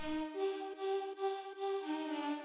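A dry synth lead from the Analog Lab plugin plays a short melody of clean sustained notes with brief gaps between them, quiet and alone.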